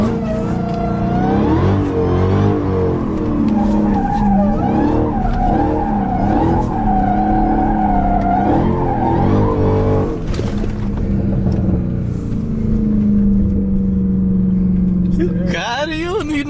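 A Dodge Hellcat slides with its tires skidding and squealing while the engine roars steadily, loud and close throughout, with voices talking over it.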